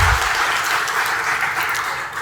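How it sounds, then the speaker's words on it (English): Applause for T-Hub at a rocket launch celebration in Hyderabad, a continuous crowd clapping that holds steady and eases slightly toward the end, with a low thump at the very start. "a round of applause for T-Hub"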